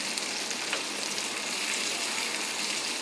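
Mackerel fish frying in coconut oil in a small pan, a steady close crackling sizzle that holds evenly throughout, with no voices.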